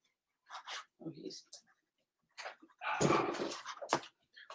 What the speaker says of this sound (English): My dog never barks, and he's downstairs barking at somebody for doing something.